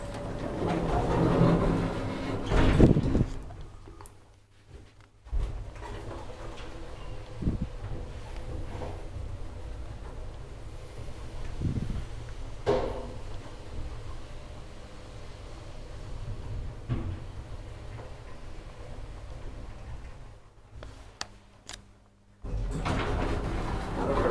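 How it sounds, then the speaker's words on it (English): An old I.G.V. roped hydraulic elevator's doors slide shut in a residential building, a long rumbling mechanical slide with clunks at the start and end, heard close with a low hum throughout. "If the doors will close."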